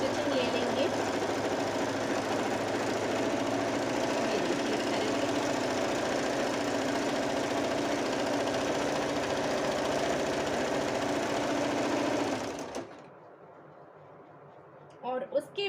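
A sewing machine runs single stitching down the length of an under frock, a steady close mechanical whir and rapid needle chatter for about twelve seconds before stopping abruptly, followed by faint handling clicks.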